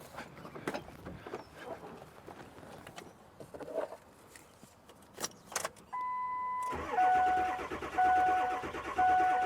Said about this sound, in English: So let's crank it and see what happens.